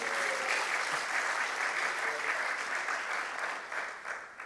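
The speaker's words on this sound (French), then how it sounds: "on acclame le Seigneur au pasteur Jean-Marc" A church congregation applauds the pastor with steady, dense clapping that holds throughout before thinning slightly at the end, with no talk over it.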